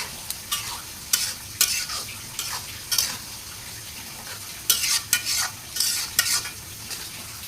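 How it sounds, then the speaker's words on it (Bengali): Spices including black cumin fry in about a kilogram of oil on a stove for a homemade hair oil, a soft steady sizzle broken by repeated sharp scraping stirs, with no talking. "এই মশলাগুলো যতক্ষণ পর্যন্ত ভাজা না হবে ততক্ষণ আমি চুলাতেই রেখে দেব।"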